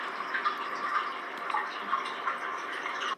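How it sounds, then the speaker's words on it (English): Steady running water from a UV filter in a goldfish tank, a soft continuous trickle with faint ticks and splashes, quiet and even throughout with no voices. "Can you hear the water in the background there? That's that UV one clearing the goldfish tank."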